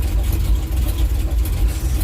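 Simca Marmon 4x4 engine idling steadily with a low, continuous rumble, close by and alone with no voices.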